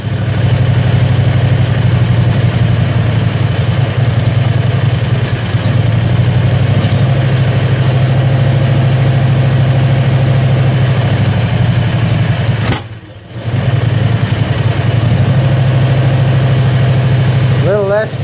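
Predator 670cc engine held just above idle with slight throttle, a steady loud low drone throughout with a brief dip near the end, close up and continuous.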